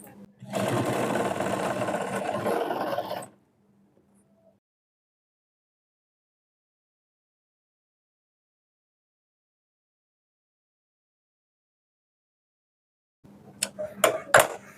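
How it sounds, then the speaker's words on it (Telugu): A sewing machine stitches a semi patiala pant in a steady whirring run of about three seconds, followed by long silence and a few clattering handling sounds at the end. "పై వైపుని కూడా స్టిచ్చింగ్ చేయడం అయితే కంప్లీట్ అయిపోయింది"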